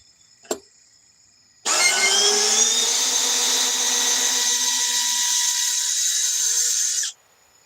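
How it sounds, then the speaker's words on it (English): A single short tap, then a Milwaukee M12 Fuel third-generation cordless hammer drill runs hard and steady for about five seconds before cutting off abruptly; loud and close, no talking. "This little M12 fuel 3rd generation hammer drill"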